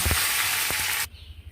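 Whole onions fry in hot oil with a loud, steady sizzle and a few soft stirring knocks, and the sizzle suddenly cuts away to near quiet just after one second.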